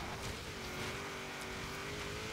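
A 1995 Mitsubishi Eclipse GSX in Forza Horizon 3 accelerates hard over rough offroad ground, its engine a steady rising drone with a faint whine and no voices.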